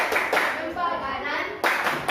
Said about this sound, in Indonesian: Kita berikan tepuk salut dulu untuk kelompok satu yang sudah maju.